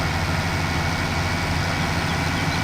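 Steady low rumble of a tractor engine idling and running in Farming Simulator 17, loud and unchanging, with no talking.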